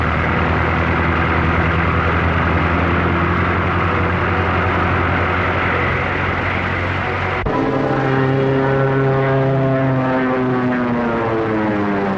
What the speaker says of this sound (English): Biplane, two-seater, eh?